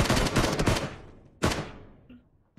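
Gunfire in the battle royale video game PUBG: a loud burst of rapid shots in the first second, then a single sharp shot near 1.5 seconds that fades, with a few faint clicks afterward.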